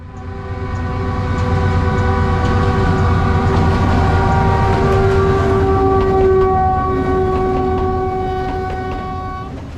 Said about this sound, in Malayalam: ട്രെയിൻ വിസിലടിച്ചിട്ട് പതുക്കെയാണ് വരുന്നത്.